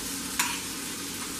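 Meat sizzles steadily in a pan, basted with a rosemary herb brush, with one brief louder crackling burst partway through.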